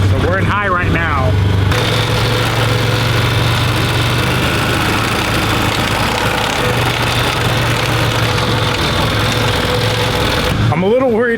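A cheap side-by-side UTV drives along in high range, its engine and drivetrain giving a steady, loud mechanical drone with a harsh whirring edge throughout. A voice is briefly heard at the start and the end.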